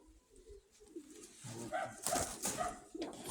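Pigeons of the Crimean breed, kept in a loft, coo softly up close in low, throaty, rolling calls that grow busier toward the end, with light rustling underneath and no speech.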